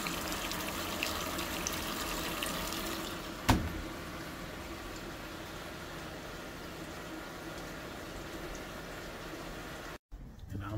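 Continuous rushing of water flowing into a washing machine, a steady hiss under soft background talk, with a brief click partway through.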